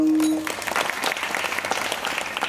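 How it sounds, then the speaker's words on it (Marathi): An audience at a Marathi kirtan claps loudly together: a dense, sustained round of applause from many hands, close and steady, following a brief held tone at the start. "माऊलीसाठी एकदा जोरात टाळी।"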